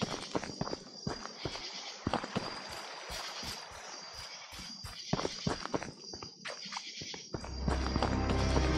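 Footsteps crunch in the horror video game The Beast Inside, quick irregular steps close by over an ambient hiss, with a low rumble rising at the end.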